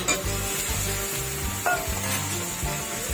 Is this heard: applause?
no